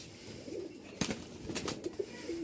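A male high-flying roller pigeon (giribaj), red with feathered feet, gives soft low coos amid faint rustling and a few sharp knocks, quiet and close.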